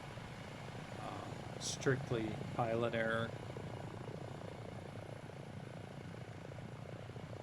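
A Dauphin helicopter in a flight simulator game hums steadily with a low rotor and engine drone, continuous throughout, while someone speaks briefly over it.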